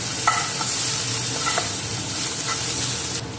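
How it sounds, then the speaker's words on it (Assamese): Onions fry in a wok with garlic granules for paneer noodles: a loud, close sizzle runs continuously, broken by a few quick scraping stirs of the spatula. "পিঁয়াজখিনি অকণমান ভজা হৈ গ'ল"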